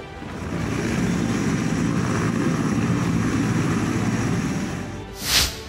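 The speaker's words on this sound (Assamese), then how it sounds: "শদিয়াৰ খেলপথাৰত পোৱা হঠাৎ অৱতৰণ এখন বায়ুসেনাৰ হেলিকপ্টাৰ।" An Air Force helicopter touching down on a school playground in Sadiya gives a loud, steady roar of rotor and engine that fades slightly near the end, followed by a brief sharp burst.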